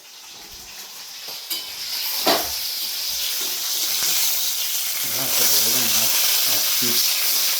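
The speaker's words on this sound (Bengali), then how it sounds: "তো চলো মাছটা আছে ভেজে নিই।" Fish sizzles in a pan, starting as a soft hiss and swelling into a louder, steady frying roar, with a couple of sharp spits and a voice murmuring underneath.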